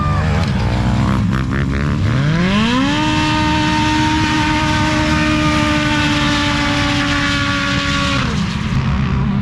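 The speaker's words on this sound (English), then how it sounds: "Packard supercharger making all that noise" A Packard supercharged engine revs up with a rising whine around the two-second mark, then holds a loud, steady supercharger scream before dropping away near the end, with a low rumble beneath throughout.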